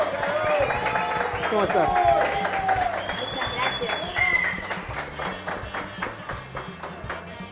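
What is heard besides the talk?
studio audience applause for a guest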